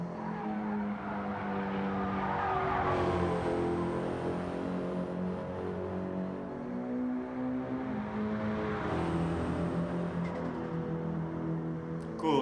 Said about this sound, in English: that blow off valve that you hear